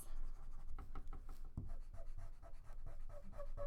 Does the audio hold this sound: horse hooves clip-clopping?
no